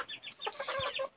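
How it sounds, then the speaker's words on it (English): An aseel rooster and hens cluck in a yard, with several short, bright, overlapping calls in quick succession, close and moderately loud. "See my aseel rooster sitting for sun bath."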